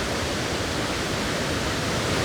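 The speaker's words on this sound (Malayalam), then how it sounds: "പുഴ ഒഴുകുന്നതിൻ്റെ അടിപൊളി സൗണ്ടുണ്ട്" A river near Ezharakund waterfall in the Paithalmala valley rushes in a constant, broad roar of flowing water, steady and close, with no voices.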